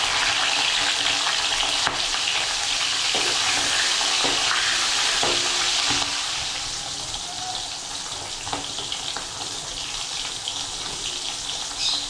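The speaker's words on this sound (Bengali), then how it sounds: "মাছগুলো আমি আগে ভেজে নেব।" Salted hilsa fish frying in hot oil in a wok, with a loud, continuous sizzle and crackle up close that eases slightly in the second half, and no voices.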